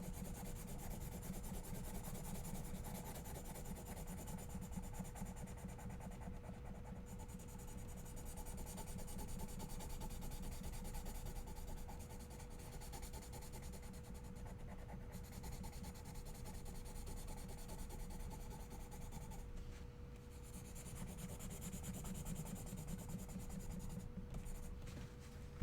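A pencil draws on paper in long, continuous scratching and rubbing strokes, steady and close for the whole stretch, with no talking.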